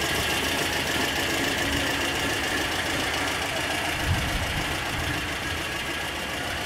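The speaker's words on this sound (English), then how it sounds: "Got a straight cut cam gear, so a little bit you can hear the straight cut sound." A lowered VW Split Bus air-cooled engine fitted with a straight-cut cam gear and a Vintage Speed SS143 exhaust idles steadily and close by, a constant rough mechanical drone with faint gear whine, no talking.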